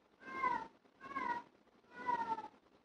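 Three drawn-out cat meows, each about half a second long, come in an even rhythm. They are fairly close and clear, and no one speaks over them.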